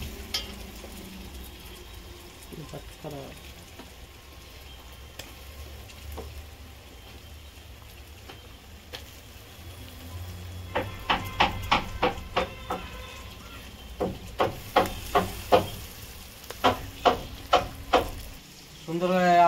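Tomato masala for Bengali chicken kosha frying in a pan, a low steady sizzle with a burst of sharp spatula scrapes and clacks against the pan in the second half.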